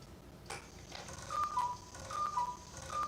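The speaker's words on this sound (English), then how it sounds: "You guys, you can hear the cuckoo clock." A cuckoo clock sounds faintly in a room, soft repeating two-note chimes with light ticking under low background noise.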